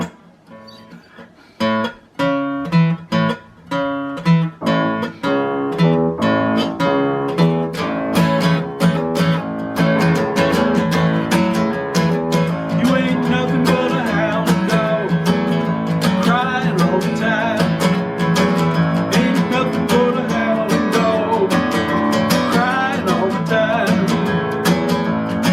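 A rock and roll rhythm guitar drives an insistent beat, starting with a few sparse, punchy strums before a full band settles into a steady, dense groove that stays loud throughout.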